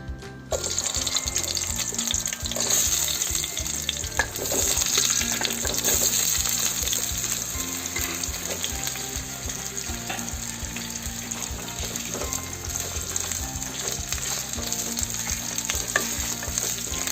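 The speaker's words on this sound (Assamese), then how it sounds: "এতিয়া মই আলুখিনি ইয়াত ভাজি ল'ম।" Potatoes sizzle loudly in hot mustard oil throughout, a continuous close crackle with occasional stirring scrapes and clatter.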